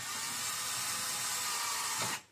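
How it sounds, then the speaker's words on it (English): A power driver runs a screw steadily into a wooden wall stud while a security shelf is mounted, a continuous close whine lasting about two seconds before it stops abruptly. "Then start another screw into the other stud in the other hole, and you snug it up as well."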